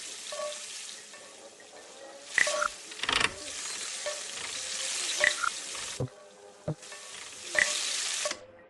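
Busy restaurant kitchen in an audio game: steady sizzling frying and stirring with running water, punctuated by occasional metallic clanks and knocks of pots and pans, dense and continuous.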